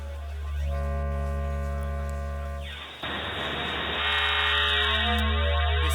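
Additive oscillator synth module from XAOC Devices with up to 2,500 harmonics, sounding a loud sustained harmonic-rich tone whose spectrum shifts and brightens abruptly midway as parameters are changed, with no talk.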